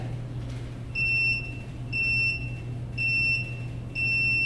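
Four short electronic beeps at steady one-second intervals, each bright and two-toned, over a low steady hum.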